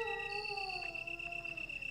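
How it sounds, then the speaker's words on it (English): Dogs howl in the original Resident Evil, Director's Cut, several long wavering overlapping wails held steadily at moderate distance, faint and eerie, with no talking. "Those dogs crying? No, they're war calls."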